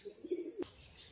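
Pigeons coo close by in a short run of soft, throaty, rolling calls that stop abruptly with a faint click, leaving quiet room tone.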